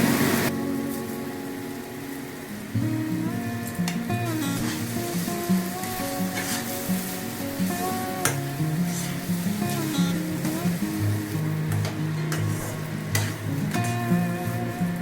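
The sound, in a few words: rice stirred into fried spice masala in a pan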